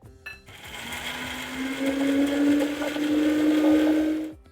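A kitchen mixer grinder blends coconut, garlic, ginger and coriander into a fine paste, a loud steady whirring drone after a brief start, running continuously until it cuts off at the end.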